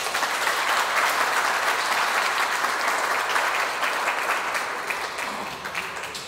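Steady, full applause from an audience at a ceremony honoring an engineer, a dense continuous clapping that holds for several seconds and tapers slightly toward the end.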